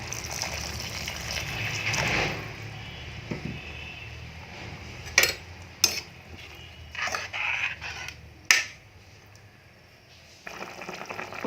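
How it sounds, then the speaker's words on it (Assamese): Hot water pours into a pot of chicken curry with a brief, rushing gush, then a few sharp metallic clinks of utensils against the pot over a low cooking hiss. "ইয়াত এতিয়া অলপ গৰম পানী দি দিম।"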